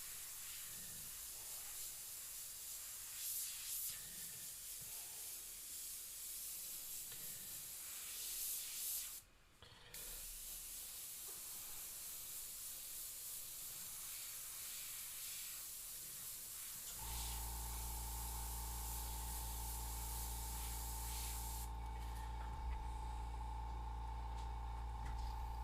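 Airbrush spraying paint in a studio, a soft steady hiss that drops out briefly, then a louder, denser compressor-like hiss takes over for the last stretch, with no talking.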